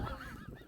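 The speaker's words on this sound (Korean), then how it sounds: "얘네 그 닭싸움 나가는 닭들이야." Large native fighting chickens bred for cockfighting, calling with loud honking, goose-like squawks close by over a noisy, continuous background.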